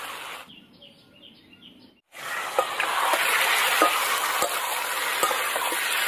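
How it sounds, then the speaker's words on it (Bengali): Potatoes and chicken curry are sautéed and stirred in a pan, a loud continuous sizzle with scraping stir strokes after a brief quieter stretch with faint chirps in the background. "আলুর সাথে একসাথে কষাতে হবে, কষাতে কষাতে আলু গলে গেছে"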